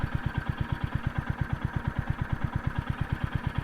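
A Royal Enfield Hunter 350 motorcycle engine idles close by with a fast, even thumping pulse, steady throughout with no revving.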